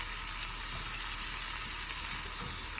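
Shredded hash brown potatoes sauté in a pan, giving a constant close sizzle and crackle that holds steady throughout.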